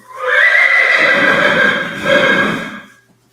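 A nice little mare at a riding horse sale gives a loud, close whinny that rises, dips and swells again before tapering off over about three seconds.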